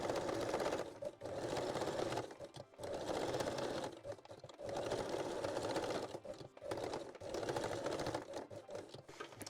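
A sewing machine runs straight-stitch backstitching along the seams of full-lace Brazilian panties, several close rapid whirring bursts of stitching separated by short pauses.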